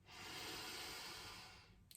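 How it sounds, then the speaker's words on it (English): Slow, deep inhalation through the nose during a guided self-love tapping meditation: one sustained airy rush of about two seconds, close and soft, fading out at the end with no talking. "deep cleansing breath for me, breathing in"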